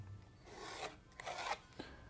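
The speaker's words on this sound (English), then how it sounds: "I'll just draw a line on here that's parallel" A pencil draws a line on a woodworking board, roughly parallel to the grain, giving a few soft, close rasping strokes in short bursts that are faint and quiet, with no voices.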